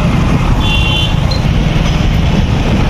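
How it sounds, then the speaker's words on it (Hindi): Continuous road traffic rumble near a restaurant in Chhattarpur, Palamu, a loud, steady wash of passing vehicles with a brief faint horn-like tone and no voices. "बहुत ज़्यादा आवाज़ आ रहा होगा रोड में"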